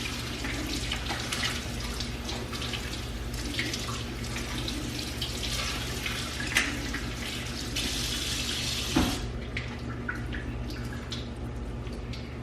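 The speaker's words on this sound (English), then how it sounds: "I rinse it all off in cold water" Cold tap water runs steadily into a pot of drained pasta at a kitchen sink, a continuous close hiss and splash with small clatters and drips, no talking.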